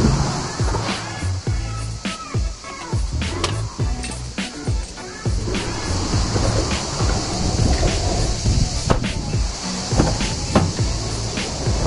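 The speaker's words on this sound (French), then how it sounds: "À condition que j'ouvre la porte, bien sûr." Rear door of a Mercedes ML 320 V6 SUV being opened, heard as a series of close mechanical clicks, latch knocks and soft thuds over a steady background hiss.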